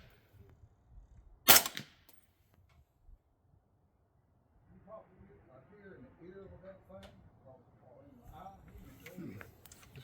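A single sharp, loud gunshot from a Noveske 10.5-inch rifle chambered in 300 Blackout cracks out once near the start, followed by quiet and then people talking for the rest.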